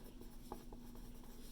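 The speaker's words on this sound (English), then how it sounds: "So maybe we should write over here" Brief, faint pen-on-paper scratching as a math formula is written out: soft irregular strokes over a steady low hum.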